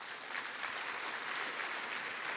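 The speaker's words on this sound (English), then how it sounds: "Can we give Jesus our best clap for that?" A church congregation claps together, a faint but continuous wash of many hands with no talk over it.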